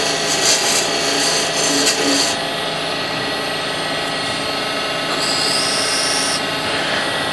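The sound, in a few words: sharpening a woodturning scraper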